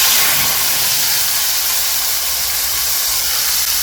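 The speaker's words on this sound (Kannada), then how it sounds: "ಈಗ ಫ್ರೈ ಆದಮೇಲೆ ಆ ರುಬ್ಬಿಟ್ಕೊಂಡಿರುವಂಥ ಟೊಮ್ಯಾಟೋನ ಹಾಕ್ತಾಯಿದ್ದೀನಿ" Ground tomato paste hitting hot oil in a pan already frying with spices and asafoetida, giving a loud, steady, broadband sizzle that roars continuously and close up with no voice over it.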